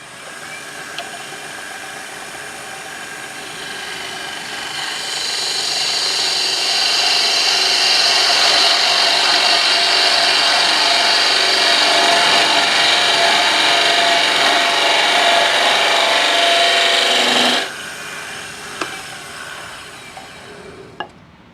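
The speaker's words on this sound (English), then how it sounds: "So I'm going to do a little more carving on that on the bottom." Wood turning on a lathe, carving the bottom of a square-top hollow form: a rising, steady scraping hiss as the tool cuts spinning wood, running for several seconds before abruptly stopping.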